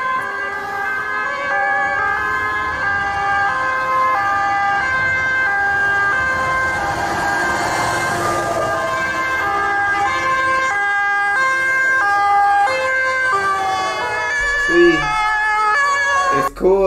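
German fire trucks respond with sirens, a loud close two-tone wail that repeats steadily for the whole stretch alongside engine rumble, with several sirens overlapping as vehicles pass.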